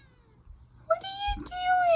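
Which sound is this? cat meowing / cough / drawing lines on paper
cat meowing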